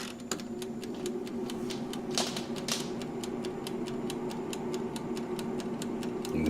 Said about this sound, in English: You can hear it ticking away.